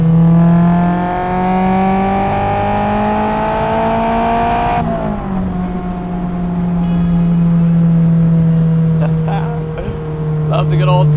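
Honda S2000 VTEC engine revving loudly while driving, its harmonic whine climbing steadily through the gears before dropping at a shift and rising again, with the engine close and dominant throughout.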